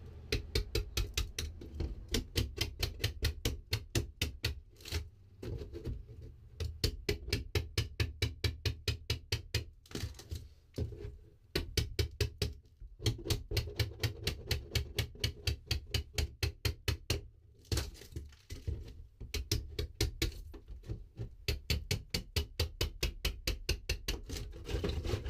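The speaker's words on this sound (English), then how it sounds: "I've been chipping at it with a chisel because I don't got no power tools." A hand chisel chips away rotted material on a Toyota RV cabover. Rapid, evenly spaced hammer-driven taps go on in long runs, broken by short pauses, and are close and sharp.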